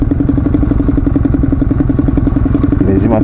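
A Kawasaki W650 motorcycle idles on a Yokohama night ride among many parked bikes, its engine thumping in a steady, even rhythm, loud and close throughout.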